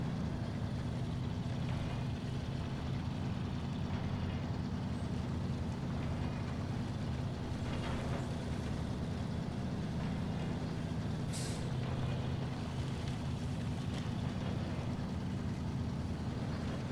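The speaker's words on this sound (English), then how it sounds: "the Fleet Star is perfectly capable of hauling this trailer through that route" A Fleet Star truck hauling a trailer in the SnowRunner video game, a steady low engine drone and rumble throughout, with a brief hiss partway through.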